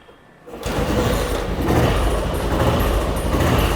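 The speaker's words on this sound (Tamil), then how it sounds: "இந்த வெஹிக்கிளை நான் ஸ்டார்ட் பண்ணி காமிச்சிடுறேன்" A restored vintage Royal Enfield motorcycle engine fires up after a brief quiet moment, then runs in a loud, steady, rough idle close by.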